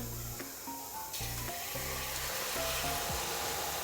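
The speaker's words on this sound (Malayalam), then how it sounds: "ഫസ്റ്റ് ഒന്ന് ഒന്ന് റോസ്റ്റ് ഇട്ടാൽ മതി അതിലേക്ക് ഇതാ ശർക്കര" Coconut roasting in a pan as jaggery goes in for a jackfruit ada, giving a steady close sizzle with occasional stirring scrapes, no talking.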